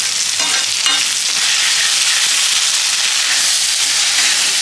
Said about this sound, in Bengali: এখন আদা রসুন দিয়ে পেঁয়াজকে কষা হচ্ছে